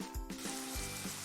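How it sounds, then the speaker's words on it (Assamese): Ground coriander and cumin sizzle briefly in a hot pan for brinjal masala, a short close frying hiss with stirring strokes and a small metallic clink at the end. "মছলাবোৰ দি অকনমান সময় ভাজি থাকিলো"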